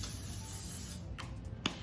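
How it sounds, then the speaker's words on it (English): Extra virgin olive oil is sprayed onto food in a home kitchen, giving a few short, soft spritzes that follow a steady hiss of background noise, with one sharper burst near the end. "I'm gonna get my EVOO and I'm gonna spray it."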